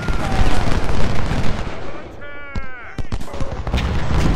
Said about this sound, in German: Kanonenfeuer.